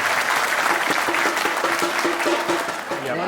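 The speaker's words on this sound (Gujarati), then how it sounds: "જોરથી ફરી એકવાર તાળીઓ થઈ જાય" An audience at a temple cultural program for an annual Umiya Mataji patotsav claps loudly and steadily, a dense burst of applause that tapers slightly at the end.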